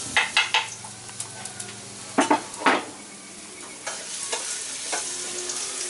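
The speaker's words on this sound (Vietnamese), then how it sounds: "Giờ ba bắt cái nồi lên cho nó nóng rồi bỏ dầu vô, mình khử tỏi." Garlic fries in hot oil in a pot, sizzling while a metal utensil stirs and taps against it in a few sharp bursts.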